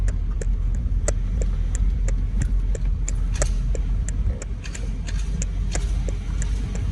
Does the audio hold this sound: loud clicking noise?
yes